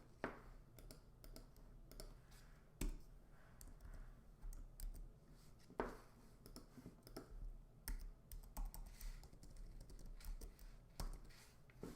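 Fast, light keystrokes on a computer keyboard, close and quiet, in irregular bursts with a few sharper, louder key hits spaced through the run.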